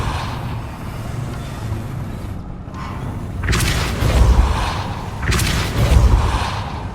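A Depulso spell cast in the video game Hogwarts Legacy, two loud booming force blasts with whooshing bursts a couple of seconds apart over a steady game ambience.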